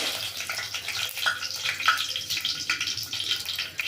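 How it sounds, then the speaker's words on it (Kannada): Mustard seeds spluttering in hot oil in a home kitchen, a dense close crackle of fine pops and sizzle throughout. "ಸಾಸಿವೆ ಸಿಡಿತಾ ಇದೆ."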